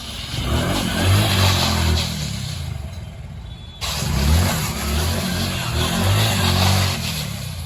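Small 100cc motorcycle engine revving with throttle surges while drifting on a wet surface, a steady mid-pitched drone rising and falling, briefly dropping off midway before picking back up, close and loud.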